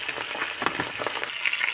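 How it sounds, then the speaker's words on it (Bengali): Pabda fish sizzle and crackle as they fry in hot mustard oil in a pan, a steady close hiss with small irregular pops and spits. "এইভাবে সবগুলো মাছ একটু সময় নিয়ে ভেজে নেব।"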